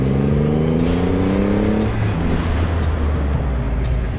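A Triumph Rocket 3R motorcycle engine revs loudly up close, its pitch climbing steadily before dropping back to a deep, rumbling idle.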